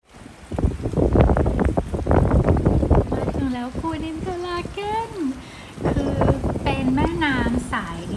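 Strong wind roars and buffets the microphone in steady gusts during a road trip drive in Switzerland, while someone talks continuously over the noise.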